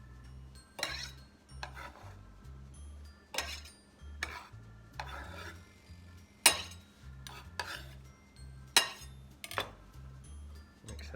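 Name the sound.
mixing French dressing in a bowl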